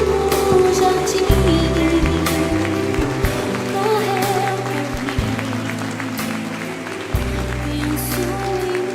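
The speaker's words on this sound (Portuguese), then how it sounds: "Aplaude o Senhor" A church congregation claps along during a sermon on the crucifixion, a steady patter of applause beneath sustained organ-like music and a singing voice, moderately loud throughout.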